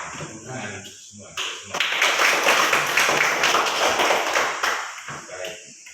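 Classroom of pupils clapping hands together during a morning lesson, a dense burst of many hands slapping in a steady rhythm for several seconds, starting after a short voice and fading toward the end.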